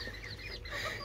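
Hens and chicks of a Turkish ispenç breed fuss in a shared cage, giving soft overlapping clucks and chirps. The sound is brief and fairly quiet, with no talking.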